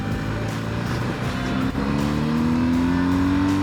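BMW GS 1250 motorcycle engine while riding: a steady, loud, rumbling drone with wind noise, pitch climbing smoothly as the bike accelerates, heard close from the rider's position with no talk.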